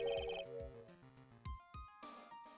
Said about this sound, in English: There is a phone call for you